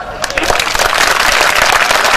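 An audience at a Hindi comic poetry recital breaks into loud, sustained clapping, a dense crackling wash of many hands close by, with voices mixed in.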